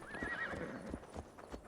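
A horse in the video game Assassin's Creed Valhalla, with a whinny at the start followed by a run of soft clip-clop hoofbeats, faint and fairly close, with no talking.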